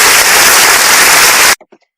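Loud, hissing burst of applause from a small group on a casual podcast-style show, cut off sharply after about a second and a half, followed by a few isolated trailing claps before silence.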